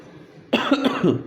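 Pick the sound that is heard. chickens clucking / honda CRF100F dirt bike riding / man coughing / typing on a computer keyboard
man coughing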